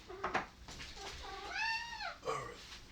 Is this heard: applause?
no